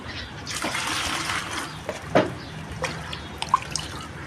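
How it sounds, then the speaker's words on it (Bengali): Water splashes and trickles into a bucket, with scattered drips and small pours that come and go rather than one steady stream, close by with no talking. "এবার আমরা যেটা করব, বালতিতে করে জল নিয়ে নিচ্ছি আমি"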